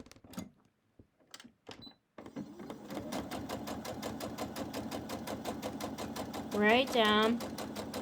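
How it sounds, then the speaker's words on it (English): A sewing machine stitches quilt fabric pieces placed right sides together along a quarter-inch seam, running in a fast, steady mechanical rattle after a few brief handling noises. A voice speaks briefly near the start. "I'm sewing this in"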